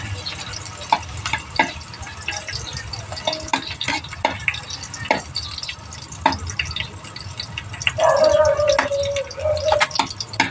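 Garlic fries in a pan with a low crackling sizzle broken by scattered sharp clicks and taps of a utensil, close by, swelling into a brief louder hiss near the end.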